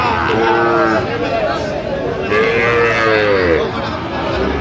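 Sahiwal cattle and calves at a cattle market in Dinajpur, several long drawn-out moos rising over a steady crowd murmur, loud and near, with people chattering in the background.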